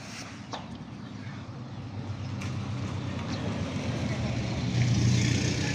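Road traffic rumbling past nearby, a steady low engine drone that swells louder toward the end.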